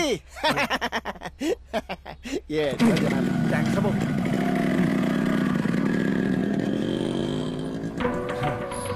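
A motorcycle engine starts up and keeps running steadily for several seconds. It follows a stretch of speech and laughter, and talk continues faintly over the idling engine.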